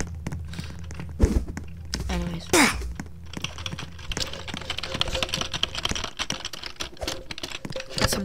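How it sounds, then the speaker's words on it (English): Computer keyboard typing while playing Roblox: a quick run of close, light clicks and thumps, with a few louder knocks, over low background noise and some voice sounds. "some keyboard ASMR right there"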